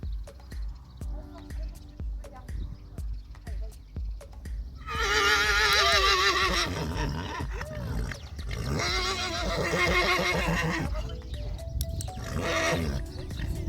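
A horse whinnies loudly twice in long, wavering calls over a rhythmic background of shuffling and knocking, with a shorter whinny near the end.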